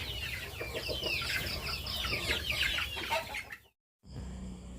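Several chickens cluck and chatter together at close range, a busy, steady flock sound that cuts off abruptly near the end before resuming briefly.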